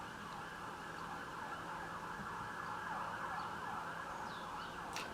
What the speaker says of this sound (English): a lot of sirens going off right now.